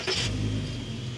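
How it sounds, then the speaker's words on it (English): A VW Touareg with a VR6 engine runs nearby in a short rev that settles into a steady low hum, moderately loud with no talking. "The engine's actually a beaut. Do you want to hear it?"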